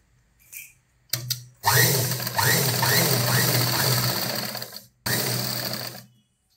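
A sewing machine stitching blouse fabric during tailoring, with a loud continuous motor whir that runs for several seconds, stops briefly, then starts again for a shorter burst.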